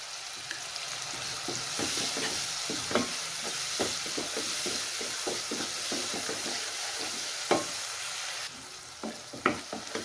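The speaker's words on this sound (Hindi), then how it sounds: "ये सारा तब तक हमने फ्राई करना है जब तक ये ऑयल छोड़ने लगे" Masala frying in oil for Punjabi sabut moth dal, a continuous bright sizzle with repeated stirring scrapes of a spoon in the pan, close and steady throughout.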